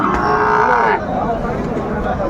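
A Sahiwal calf gives a single loud, drawn-out moo lasting about a second, close to the recorder, followed by quieter background noise.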